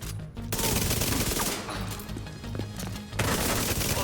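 A 1200 RPM submachine gun fires long, dense bursts in The Division 2, loud and sustained with a brief pause between volleys and heavy impact noise throughout.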